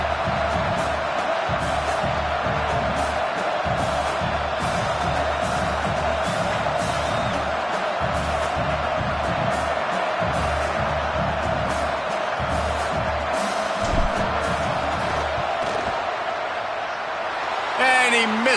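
A football stadium crowd waits before a field goal kick in a Tennessee versus Indiana game, a steady roaring hum of many voices with a commentator talking over it.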